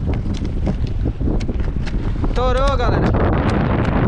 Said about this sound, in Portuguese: O mais ruim vai ser a gente estar retornando aí, porque o vento tá muito forte.